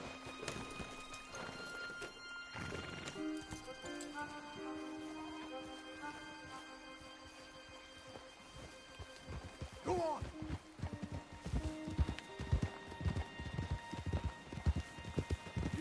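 Horses clip-clop on a path in Red Dead Redemption 2, the hoofbeats close and uneven at first and growing into a dense trotting rhythm near the end. A neigh sounds around the ten-second mark, and soft music sits beneath.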